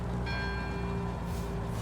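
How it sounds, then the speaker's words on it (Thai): A bell rings in the Forza Horizon 5 racing game while driving a Toyota Corolla Hatchback, several clear bright tones sounding over a steady low engine hum. "มีเสียงะระฆังติ้งดึงติ้งดึงด้วย"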